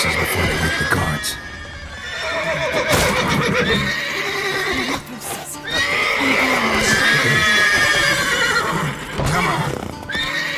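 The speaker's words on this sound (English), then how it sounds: "Gotta calm all the horses before they wake the guards." Several horses whinny and neigh in a busy, loud mix, with shuffling hooves and game-like ambience filling the background throughout, in The Witcher 3.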